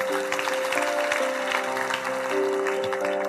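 A church congregation claps for Jesus during a sermon, steady applause over sustained organ or keyboard chords, with occasional voices rising through the room.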